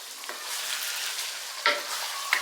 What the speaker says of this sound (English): And stir it for another while until it blend together and start to have the oil breaking again.